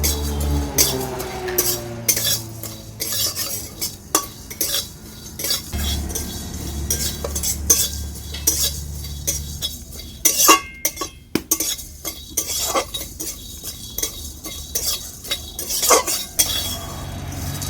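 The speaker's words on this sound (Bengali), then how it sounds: "কড়াই গরম হয়ে গেছে, গোটা মশলাগুলো দিয়ে দিচ্ছি" Whole spices stirred and tossed in a hot wok on a stove for a yogurt chicken curry: repeated metallic scrapes and clinks of a spatula against the pan, with a soft sizzle underneath, fairly close and steady.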